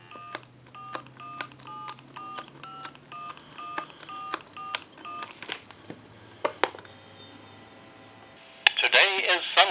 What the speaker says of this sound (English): we'll go ahead and call our time and temp number, give you some dial tone